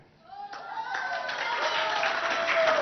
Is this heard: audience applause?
yes